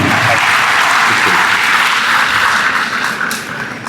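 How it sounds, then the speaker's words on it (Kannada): An audience applauds to welcome a speaker onto the stage at a legal awareness event, a dense, loud, sustained wash of clapping that tapers slightly at the end. "ಒಂದು ಚಪ್ಪಾಳೆ ಮೂಲಕ ಅವರನ್ನ ವೇದಿಕೆಗೆ ಬರಮಾಡ್ಕೊಳ್ಳೋಣ."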